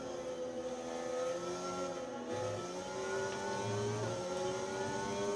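A Formula 1 race car in a video game drives onto the track, its engine a steady mid-pitched whine that climbs slightly in pitch, fairly faint and continuous with no talking.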